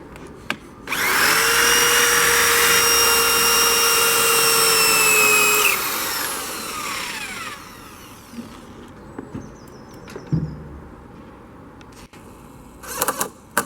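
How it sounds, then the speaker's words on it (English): An orange power drill whirs loudly for about five seconds while a window frame is fitted for a stained glass aperture, then winds down; soft knocks and handling noises follow, with a few brief sharp clicks near the end. "pass me up my drill"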